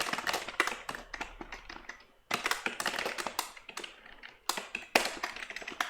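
Code is typed on a computer keyboard in quick bursts of close, crisp key clicks, broken by short pauses, with no talking.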